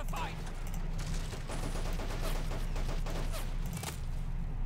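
Machine gun fire in the war strategy game Men of War Assault Squad, British SAS forces: steady rattling bursts with distant shots under a constant low battlefield rumble, moderately loud and continuous.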